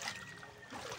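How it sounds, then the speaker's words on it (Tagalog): Weak trickle of tap water running during hand laundry, a thin steady splashing dribble heard close and quiet, with no talk. "Masyadong hina yung water system dito."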